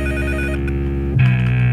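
A mobile phone ringtone plays loudly and close, a steady electronic melody that shifts to a new tone partway through, with no talking.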